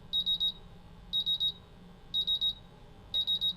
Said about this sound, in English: the buzzer is functional